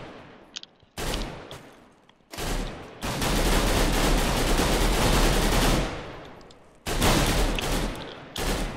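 Gunfire in a Counter-Strike style mode in Minecraft comes in rapid automatic bursts, loud and close, with short gaps between them and one long sustained stretch of firing in the middle.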